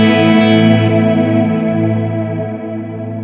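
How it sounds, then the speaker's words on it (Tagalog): Electric guitar chord ringing through a Black Box reverb pedal, its reverb trail sustaining and slowly fading with a rich, chorus-tinged shimmer. The sound is steady and fairly loud, with no talking. "O, diba? Nandun pa rin yung reverb."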